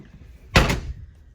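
A walk-through door on a used 2007 Sundowner Signature Series four-horse living-quarters trailer shuts with a single sharp thud and brief rattle, close by and alone.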